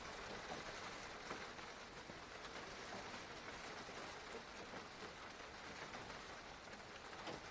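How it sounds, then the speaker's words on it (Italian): Steady rain pours down continuously in a dense, even wash of drops, with no other sounds rising above it. "Per forza, con questa pioggia."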